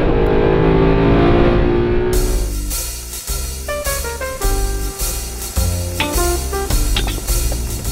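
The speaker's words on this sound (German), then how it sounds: "Der V8 antwortet sofort auf jede Gaspedalbewegung, die man macht." Mercedes SLS AMG V8 on a race track, loud engine roar building under hard throttle, then rapid gear changes with rising revs and short burbling lifts between pulls, heard close with no talk.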